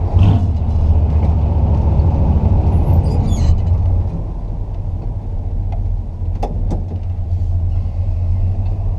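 An older car with a three-on-the-tree column shifter drives and accelerates, its engine giving a loud low rumble that dips and rises as it shifts, with faint mechanical clicks near the end.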